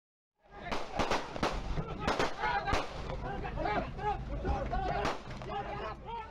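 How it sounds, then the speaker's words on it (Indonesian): Police warning shots fired into the air during an arrest of a tractor-engine theft gang in Demak, heard as several sharp loud cracks amid a busy crowd of voices and commotion. "polisi melepas tembakan peringatan ke atas"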